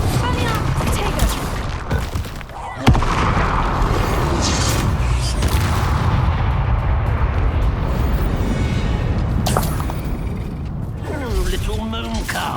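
Bombarda and Confringo spell explosions in Hogwarts Legacy, heavy booming blasts and crackling mechanical bursts layered with combat effects, loud and continuous, with game voices calling out over the action.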